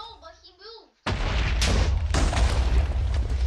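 Cannon fire and explosions in the Minecraft Bomb Lobbers game, heavy rumbling booms that burst in suddenly after a short stretch of talk and then roll on continuously, loud and close.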